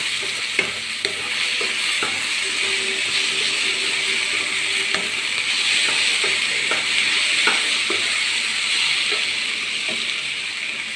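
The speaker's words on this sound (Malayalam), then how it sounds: "സവോള എല്ലാം കൂടി ഒന്ന് വാടിയിട്ടുണ്ട് അതിനകത്തേക്ക് ഒരു ചെറിയ തക്കാളി നല്ലോണം മിക്സ് ചെയ്യുക ഇളക്കി കൊടുക്കുക" Tomato stirred into frying potato and onions in a home kitchen, a steady close sizzle with scraping stirs and light clinks of the spoon against the pan, no talking.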